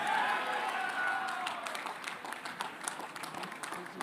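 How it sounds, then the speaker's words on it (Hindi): Weak audience clapping at a large Ramayana film event, a thin but steady patter of many hands that fades slightly midway, with faint crowd murmur under it. "आपकी तालियां थोड़ी कमजोर थी।"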